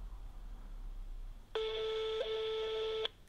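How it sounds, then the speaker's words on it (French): After a quiet stretch, a single sustained electronic phone ring tone plays for about a second and a half, then stops abruptly. "Troisième sonnerie."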